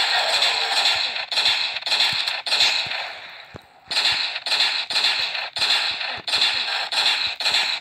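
A minigun fires in the online game Graal: rapid bursts of crackling, popping gunfire in roughly regular clusters, loud and close, with a short pause midway before the bursts resume.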